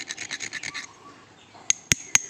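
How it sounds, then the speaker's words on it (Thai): A rapid run of rasping scratches from rubbing down an aluminium valve part for a leaking water valve is followed by a few sharp, distinct clicks or taps, close and fairly quiet. "ใช้เวลาพอสมควรนะครับการถูเนี่ย ระวังโดนมือตัวเองนะครับ"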